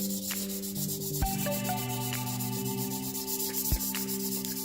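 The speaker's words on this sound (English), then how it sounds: "Just lay it down on there and just go side to side." A bottom cutting blade being sharpened by rubbing it side to side on a flat abrasive surface, giving close, steady scraping strokes with a couple of sharper ticks, heard alone.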